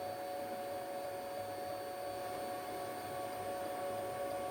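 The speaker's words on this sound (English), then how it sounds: "Yes, we want to home the machine. Okay, the Z is moving up." An Onefinity X35 Woodworker CNC router raising its Z-axis during homing produces a constant motor hum and whine at moderate volume, steady throughout with no pauses and no voices.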